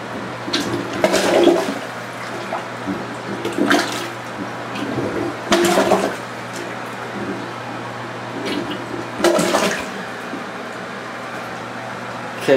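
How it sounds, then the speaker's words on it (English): A heavy-duty plunger works a clogged, backed-up toilet, making repeated wet sloshing gurgles and suction pulses at an irregular pace over a low steady room hum, close and without talking. "Now I'm gonna plunge it."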